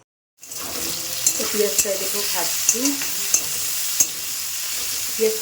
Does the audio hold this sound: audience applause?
no